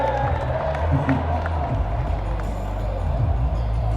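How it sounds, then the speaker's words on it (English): An audience at a butcher competition claps and cheers in a continuous wash of applause, with a few whoops rising over the crowd noise throughout. "we need more applause than that"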